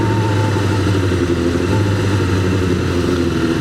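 A Suzuki GSXR 400 motorcycle engine held at high revs near 8,000 RPM, droning loud and close with a steady, strained buzz and no talking over it.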